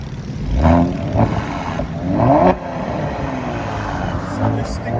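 A Kia Stinger GT 3.3L turbo V6 revs in short bursts with a raspy exhaust and a rushing, whooshing turbo spool sound, heard close amid background noise and faint voices.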